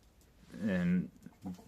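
A Podkarpacka hen lets out a drawn-out clucking call, close by, followed by a softer short cluck in otherwise quiet surroundings.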